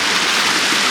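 A mountain stream in the Dolomites near Cortina runs over stones, a loud, close and constant rushing wash of water with no voices.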